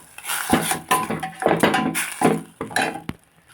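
Spoon scraping and clinking against a pan while moringa leaf and potato curry is stirred with salt, garam masala and chili powder, in a series of short, close scrapes and knocks with brief pauses between.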